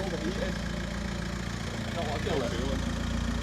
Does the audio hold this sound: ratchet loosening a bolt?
no